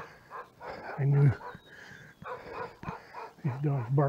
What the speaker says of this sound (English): He glanced towards the barking dog